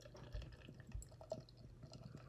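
Keystone Light beer poured into a glass, a faint liquid splash and trickle with a few soft clinks, quiet and close.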